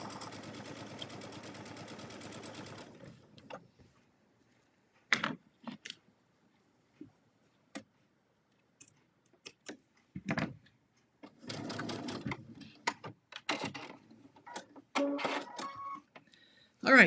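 A sewing machine with twin needles top stitches in a short steady run of about three seconds, then falls quiet before scattered clicks and handling noises from the work area follow.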